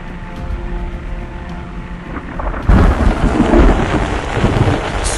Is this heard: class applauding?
no